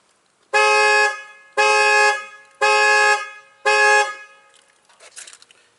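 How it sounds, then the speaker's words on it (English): A factory Dodge car alarm sounds its horn in four loud, evenly spaced honks, each about half a second long, close by, then fades into faint background noise. "I should be able to just walk close to the car, and it'll trigger the alarm"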